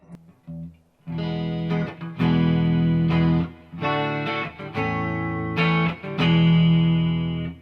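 A distorted electric guitar through a P90 single-coil pickup and a Quilter 101 Reverb Mini amp head plays a riff of sustained, thick chords with short pauses between phrases, warm and saturated, close and loud with no voices.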